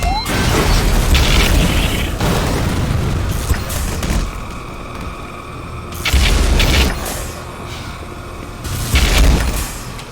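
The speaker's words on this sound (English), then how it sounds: "the gluon gun is something that really just, every time I use it, I just feel awesome" Sci-fi gluon gun from the Black Mesa video game firing in sustained bursts, a loud roaring energy beam with booming low rumble, swelling in three surges over about ten seconds amid mechanical hums.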